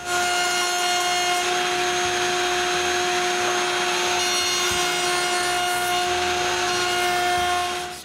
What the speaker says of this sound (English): So I route a chamfer.